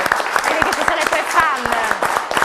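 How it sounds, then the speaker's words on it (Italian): Audience clapping at a local quiz show event in Tolmezzo, a steady patter of hands sustained for a couple of seconds, with voices talking over it. "Facciamo l'applauso"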